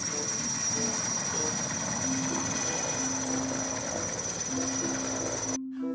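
A steady whirring, buzzing toy helicopter hum with a high whine and a rotor drone, continuous and fairly loud before it cuts off abruptly.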